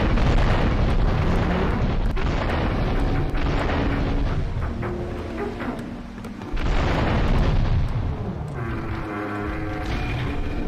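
A rumbling, sustained boom as a bomb-rigged boat blows up in Grand Theft Auto III, loud and continuous with a short dip before the roar resumes.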